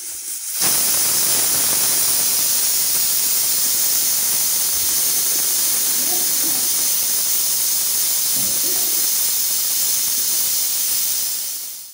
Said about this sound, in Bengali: এবার এটাকে প্রেসারে দিয়ে দেবো।